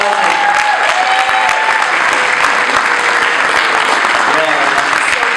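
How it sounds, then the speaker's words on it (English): Loud, continuous audience applause at a large regional event hall, thick rapid clapping holding steady throughout with faint crowd voices mixed in. "Can we give them both a big round of applause?"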